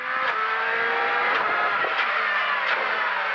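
A 2017 Ford Fiesta WRC rally car races flat out on a rally stage in the Vosges, its engine screaming at high revs with brief shifts and pops, loud and steady throughout with no speech.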